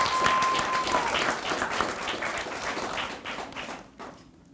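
Audience applause for graduating cadets at a Forest Park cadet program graduation ceremony, a steady crowd of clapping that holds strong and then thins out toward the end, with a brief tone early on.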